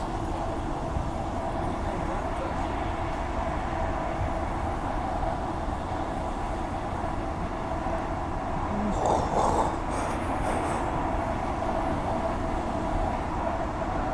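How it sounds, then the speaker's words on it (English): An A-series suburban train passing on nearby tracks, a steady low rumble of wheels and carriages throughout, with a brief brighter squeal partway through; no talking. "Oh, train coming down."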